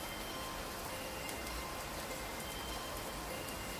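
Heavy rain pours through a forest at night in a continuous, even hiss of drops, soft and distant-sounding, with no voices or other sounds breaking through.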